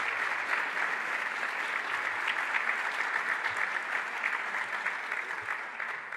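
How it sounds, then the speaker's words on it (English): Audience at a New York economic announcement applauds the local planning committee, a steady dense wash of clapping at even loudness throughout, thinning slightly toward the end, with no talk over it. "Please clap, please stand."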